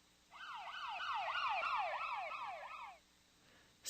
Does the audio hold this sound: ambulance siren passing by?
yes